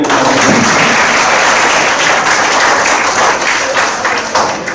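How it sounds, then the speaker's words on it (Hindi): Schoolchildren and guests at a school event applaud a magician with loud, continuous, dense clapping from a large crowd that holds steady for the whole stretch. "इनके लिए एक बार ताली हो जाती है"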